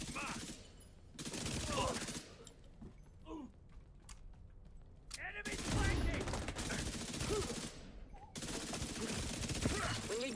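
Bursts of gunfire from the Backfire weapon in The Division 2, with loud rapid volleys separated by short gaps, mixed with mechanical clicks and game effects.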